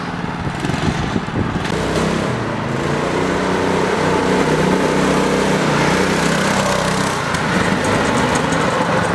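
A go kart's small engine runs steadily outdoors, a loud, continuous buzzing drone with slight rises and dips in revs across the whole stretch, heard close with no talking.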